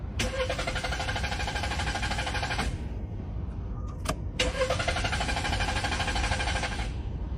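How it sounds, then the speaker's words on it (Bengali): A car that will barely start is cranked in two long, steady bursts of starter whine with a short pause between, the engine never clearly catching; loud and close, no talk. "ইঞ্জিন চালু করছি এখন।"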